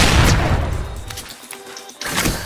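A grenade launcher firing in the battle royale game ARK of Horizon, heavy booming blasts close up, one at the start and another near the end, with a quieter gap between them.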